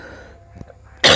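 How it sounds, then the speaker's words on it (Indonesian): A single short cough bursts out loud and close near the end, after a stretch of quiet room noise. "agak batuk, masih batuk"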